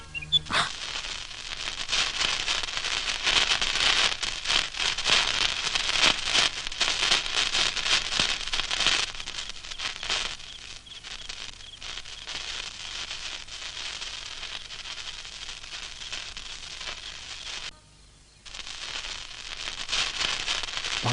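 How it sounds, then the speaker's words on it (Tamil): Firecrackers burst in a steady, crackling stream at a festive night celebration, a dense loud spatter of pops running almost continuously with a brief lull near the end. "பார்த்து பட்டாசு வெடிங்கம்மா, மேலே பட்டுற போகுது."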